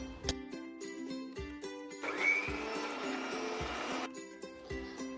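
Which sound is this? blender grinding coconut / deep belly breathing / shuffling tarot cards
blender grinding coconut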